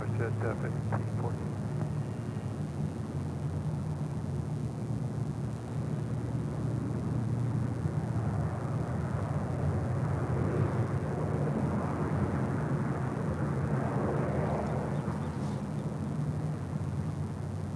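Westjet airliner landing on runway 24 left at LAX, a broad, steady jet roar heard from a distance for the whole stretch, with faint radio and talk mixed underneath.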